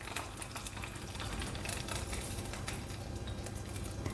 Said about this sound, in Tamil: இப்போ அதில் தாளிப்பை நம்ம ஊற்றிடலாம்.